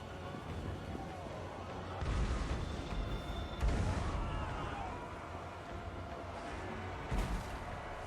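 Artillery firing in a Warhammer 3 tournament battle, a dense rumble of distant booms and blasts with a few louder bursts, under a speaking commentator.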